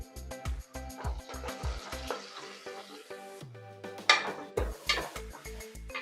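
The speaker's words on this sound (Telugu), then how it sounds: "పచ్చిమిర్చి, ఆనియన్స్ ఫ్రై అయిపోయాయి." Green chillies and browned onions with a pinch of turmeric frying in a pan for a pressure-cooker mutton curry, a steady close sizzle broken by repeated metallic scrapes and clinks of a stirring spoon against the pan.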